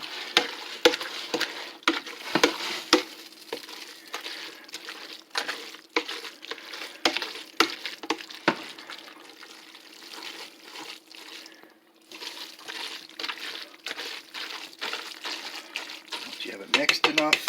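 Vegetable lo mein being mixed with a spoon, giving a steady run of soft wet scraping and slapping strokes with faint sizzle-like texture, fairly close, continuing throughout with no talk.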